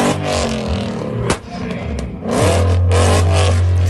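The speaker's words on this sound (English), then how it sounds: "To me, Mustangs just don't sound the best. I mean, it don't sound bad, but it's just like loud." A Ford Mustang engine revs hard and loud, a raw blare that dips briefly midway before climbing back into a sustained, steady roar that fills the rest of the moment.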